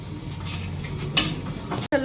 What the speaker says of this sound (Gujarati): આપણા વાસણ ધોઈ ગયા છે